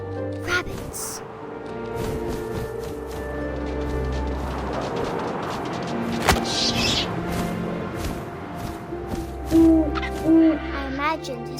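An owl hoots in the video game What Remains of Edith Finch. A few soft hoots rise over a steady bed of wind and game ambience, with a faint voice nearby.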